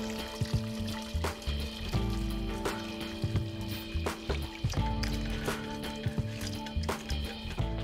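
Crayfish stock poured and strained to remove the shells and little bits, a soft continuous pour with wet squishes, drips and small clinks of shells, moderately quiet and close.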